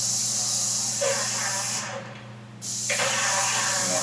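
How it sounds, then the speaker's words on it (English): A Graco SaniSpray HP 130 airless paint sprayer with a 617 tip hisses loudly and continuously, cuts out briefly, then resumes spraying with a strong, steady hiss under a motor hum. "And that is the spray we're getting on the 617 tip."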